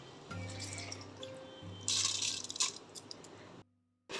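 Mutton cooking water pours into a biryani pot, a short liquid splash and gurgle that swells to a louder gush midway before cutting off abruptly.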